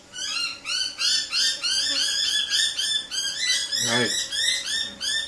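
Several pet birds chirp and squawk in quick repeating bursts throughout, loud and close indoors, with a man's brief spoken word over them.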